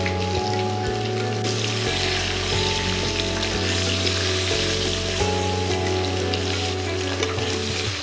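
Potatoes fry in hot oil in a pan, with turmeric and salt added, giving a loud, dense, continuous sizzle with faint stirring scrapes and no voices.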